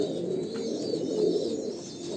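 A brief, close, low coo from an 8–9-year-old Andhra pure-bloodline Kalanka pigeon, one soft burbling phrase with no talking over it.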